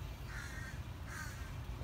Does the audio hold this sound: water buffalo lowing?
no